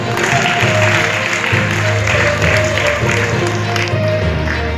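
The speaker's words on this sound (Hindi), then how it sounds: "एक बार तालियों के साथ सांसद जी का स्वागत करें, अभिनंदन करें।" An audience applauds continuously at the Rewa Film Festo 2025 event, over a droning, tonal background, the clapping dense and steady throughout.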